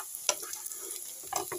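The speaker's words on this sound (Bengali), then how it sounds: "পেঁয়াজ আর কাঁচা লঙ্কা ভাজা হচ্ছে" Sliced onion and green chilli fry in hot oil, a soft, steady sizzling hiss with a few light clicks and pops, faint and close, with no voices.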